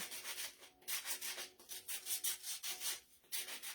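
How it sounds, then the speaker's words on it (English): An electric sander scrubs in short, repeated bursts against a painted wood round, distressing the finish; the passes are fairly faint and close, with brief pauses between strokes and no talking. "I'm going to just use my sander and distress it"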